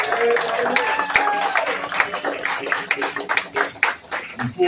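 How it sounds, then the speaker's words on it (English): A round of applause for a ten-year-old acupuncture student at a community gathering, close, uneven clapping from a smallish crowd that grows sparser and patchier toward the end, with voices faintly underneath. "Let's give her a round of applause."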